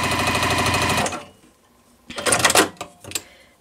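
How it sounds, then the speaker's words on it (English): A sewing machine stitches quilt block pieces for a log cabin improv block in a fast, even rattling run for about a second, followed after a pause by shorter bursts of rustling and clatter. "So I'm just gonna sew those on."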